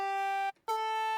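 A buzzy vocal synth built from a recorded voice and pitch-corrected with Melodyne auto-tune plays two sustained tones at a steady level with a brief gap between them, heard alone.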